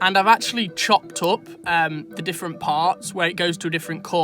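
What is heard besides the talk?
No distinct noise like a dog, phone or traffic.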